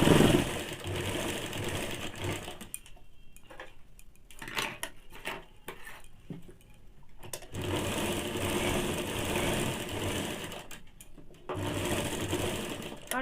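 A sewing machine stitches a half-inch joining seam on baby panties, running in loud steady whirring bursts that pause and restart, with quieter fabric handling between runs.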